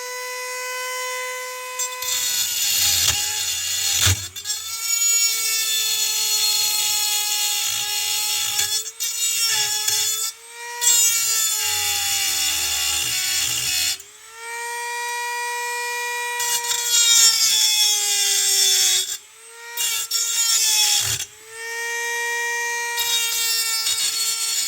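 A drill bores holes into the muffler of a Husqvarna 550xp Mark II chainsaw. It makes a loud, high whine that runs in long stretches, dips in pitch under load, and stops briefly between passes.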